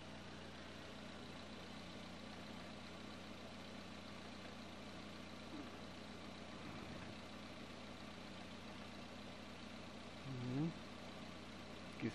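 Car engine idling on an engine test stand, a steady low drone holding throughout, with a brief louder swell near the end.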